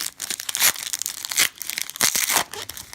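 A Panini Prizm basketball card pack is torn open by hand, with several sharp, crinkly foil ripping bursts coming close and loud in quick succession.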